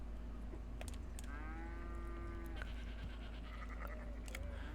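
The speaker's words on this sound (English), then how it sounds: "wait, there's goats over there." A few goats bleat nearby in an outdoor farm setting, several drawn-out wavering calls spread across a few seconds over low background rumble.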